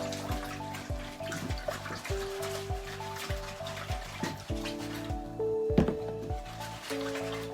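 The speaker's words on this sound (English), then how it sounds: "I need to just rinse off my transfer here so it doesn't get ruined." Running water rinses a chalk transfer stencil, a steady trickle and splash under a rhythmic background beat, close and moderately quiet.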